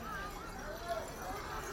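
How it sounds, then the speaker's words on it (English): Horses of the Yamhill County Sheriff's Posse walk in a Christmas street parade, their hoofbeats and an occasional whinny faint under steady crowd noise and a speaking voice. "I just love the horses"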